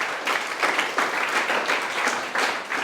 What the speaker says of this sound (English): let's give a round of applause for the parents and the dignitaries here